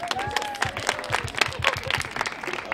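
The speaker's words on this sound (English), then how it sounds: "Give them a round of applause." Quiz participants at a Black History event draw scattered audience applause. The individual claps are distinct and rhythmic, sounding nearby and moderately loud, with a faint voice briefly audible underneath.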